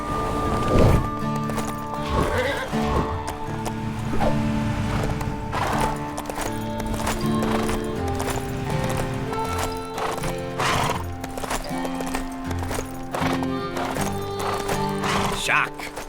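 Horse hooves clip-clop and a horse neighs inside the LEGO Marvel Super Heroes 2 video game, with several whinnies standing out over a constant bed of game music and voices.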